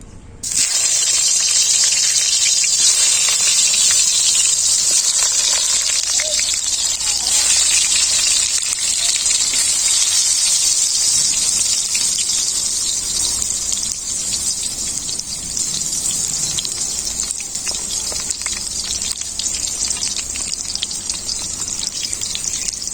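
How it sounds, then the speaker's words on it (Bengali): Eggplant pieces rubbed with salt and turmeric fry in well-heated mustard oil in a wok, giving a loud, steady, hissing sizzle that carries on unbroken from start to finish. "তেল খুব ভালোভাবে গরম হয়ে গেছে এরপর বেগুনগুলো ভেজে নেবো"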